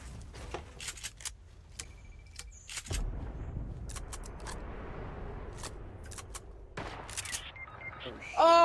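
Sniper gunfire in the Fortnite video game: several sharp, separate shots crack out at irregular intervals over a steady game background, fairly close and loud.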